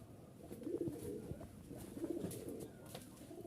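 A biscuit-coloured male and female pair of Giribaz pigeons from Rajshahi coo softly nearby, two rounds of low, rolling coos separated by a short gap over quiet background rustle.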